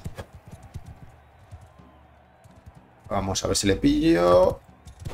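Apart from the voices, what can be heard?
horse hooves in the video game Mount and Blade II: Bannerlord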